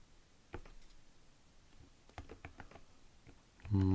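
Key presses on a vintage computer keyboard arrive as a sparse, irregular run of sharp clicks, fairly faint and close, ending in a brief steady electronic tone.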